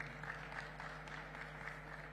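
An audience at the Afro-Arab Youth Congress 2025 in Uganda applauds, a faint, distant wash of steady clapping that runs throughout over a low electrical hum.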